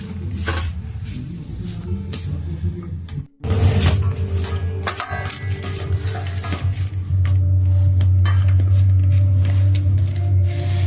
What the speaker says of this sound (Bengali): মিশিয়ে নিয়ে তারপর অল্প অল্প জল দিয়ে একটা ডো তৈরি করে রেখে দেবো ভালো করে।